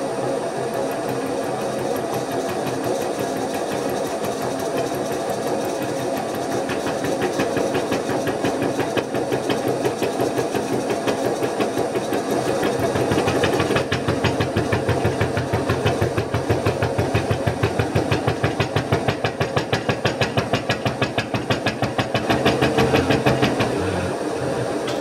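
A milling machine cuts a large-diameter radius into a steel boiler mount plate with a high-speed steel cutter, giving a steady mechanical whir with rapid rhythmic chattering pulses that grow louder midway.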